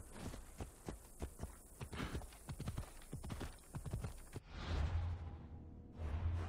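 Phobos the horse galloping in Assassin's Creed Odyssey, a steady rhythmic clip-clop of hooves at a quick pace for several seconds, then giving way to a low rumbling ambience.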